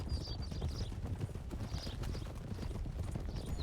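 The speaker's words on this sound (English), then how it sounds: "Is that their horses?" Horses' hooves clip-clop steadily on hard ground, a continuous close rhythm of overlapping hoofbeats with no voices.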